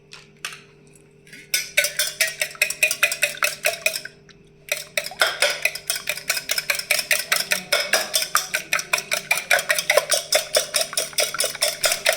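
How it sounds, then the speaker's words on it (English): Eggs whisked briskly in a bowl for walnut brownie batter, a fast steady run of clinking beats against the bowl that pauses briefly, then resumes, loud and close. "Let's crack 2 eggs into a bowl and whisk them"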